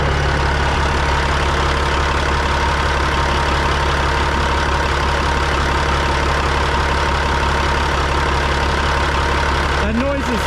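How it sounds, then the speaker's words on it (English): A truck's diesel engine idling steadily and close, a loud, deep, constant rumble that holds unchanged throughout, with a brief extra noise near the end. "Well, I got the truck running here for a second."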